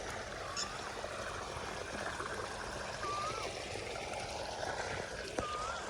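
Water pours steadily from a borewell pump outlet in a continuous, even rush that holds close and fairly loud throughout, with no pauses or talk.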